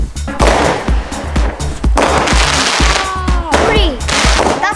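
Big consumer fireworks launch outdoors in freezing weather, a loud run of booming shots with whistling, crackling tails, and people call out between the blasts.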